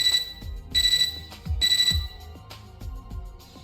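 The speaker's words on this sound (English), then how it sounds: "Our mutual silence is interrupted by a computer terminal beeping." Computer terminal in the Fate/Extra video game beeping in three evenly spaced high electronic bursts over a low game music background, with no talking.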